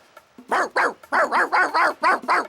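A dog barks in a fast series of about eight loud, close barks with short gaps between them, heard alone without talk.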